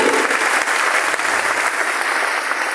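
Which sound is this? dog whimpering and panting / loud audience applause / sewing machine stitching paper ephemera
loud audience applause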